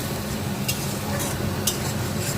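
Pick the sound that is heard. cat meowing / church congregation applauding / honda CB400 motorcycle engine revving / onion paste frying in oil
onion paste frying in oil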